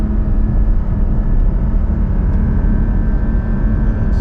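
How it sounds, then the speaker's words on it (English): A 2021 Porsche Cayman GT4 engine drones loud and steady from inside the car while driving, a dense low rumble holding an even pitch with no voices. "it's just an excuse to hear the engine more"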